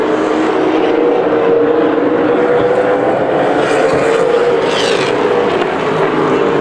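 Super late model race cars thunder around a three-eighths-mile short track at the Bullring in Las Vegas, a loud, sustained engine roar from close range with a pitch that rises and falls as the pack passes.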